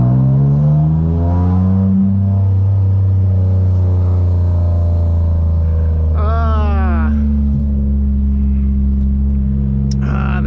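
A 2009 Mitsubishi Eclipse GT engine drones loudly and steadily while driving, its tone rising and falling, with a sharp rising rev burst midway through the close, continuous rumble.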